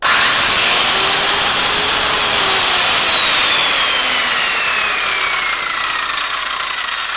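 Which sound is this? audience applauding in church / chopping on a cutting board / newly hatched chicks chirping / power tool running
power tool running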